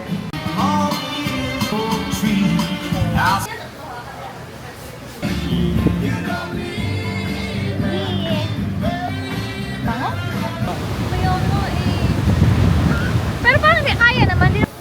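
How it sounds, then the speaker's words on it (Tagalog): Strong wind gusts at a Boracay beach during a storm, a loud, steady roar with crashing surf underneath that swells toward the end, with people talking nearby. "Lakas na naman ng hangin."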